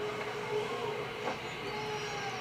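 A steady rumble of a video game train locomotive in BeamNG, a constant low drone with a faint tonal hum, moderately quiet and unbroken throughout.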